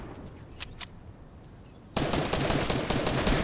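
Gunfire in the video game Fortnite: a few faint separate shots early, then a loud sustained burst of rapid automatic fire that runs to the end.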